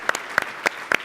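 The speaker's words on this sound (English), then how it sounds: "So I'd like to give U.S." Audience applause at a water summit fireside chat, four distinct hand claps spaced across about a second, sharp and moderately close, with no talk.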